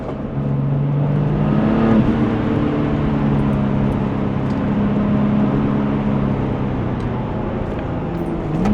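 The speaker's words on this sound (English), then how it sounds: "this car just has too much power for this road" A Porsche 996 Turbo engine drones steadily under load on a winding Black Forest road, a loud continuous roar with rising and falling revs and a brief gear-shift dip near two seconds.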